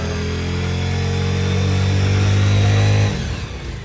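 A motorcycle engine runs steadily up close for about three seconds with a strong, even hum, then its tone drops and eases off as the revs fall.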